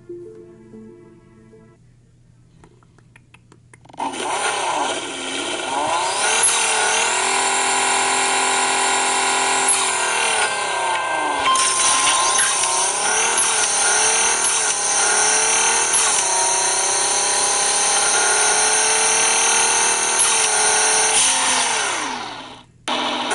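A steady, loud racing car engine drone in a video game, with sweeping pitch rising and falling as it revs and shifts, continuing without a break for about twenty seconds.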